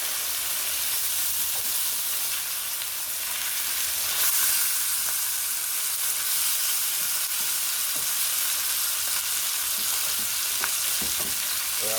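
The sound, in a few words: meat frying and being broken up in a skillet for lasagna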